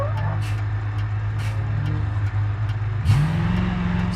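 A truck with air brakes in the BeamNG driving game, its steady low engine drone running throughout with periodic short hissy bursts, and a rising engine pitch near the end as it pulls away.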